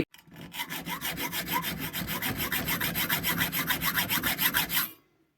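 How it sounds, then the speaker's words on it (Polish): A hacksaw blade cuts a groove during a KTM carburetor repair, giving about twenty quick, even back-and-forth rasping strokes close up, then stopping abruptly. "Nacięty rowek profesjonalnie. Tak jest. Brzeszczotem z 89."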